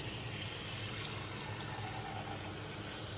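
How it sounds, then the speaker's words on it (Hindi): Water runs steadily into a small tea pan in a home kitchen, a continuous broadband pouring rush that stays loud and close for the whole moment, with no talking. "ये है मेरे चाय बनाने का छोटा सा पतीला, इसमें कि हम लेंगे अभी पानी"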